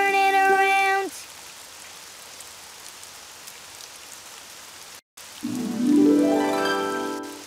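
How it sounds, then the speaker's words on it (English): Steady rain falling outside, a soft even patter heard between bursts of cartoon music and a rising musical sweep. "Oh, it's raining outside."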